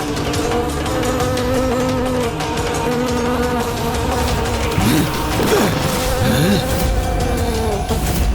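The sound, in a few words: buzzing of countless insects, sound effect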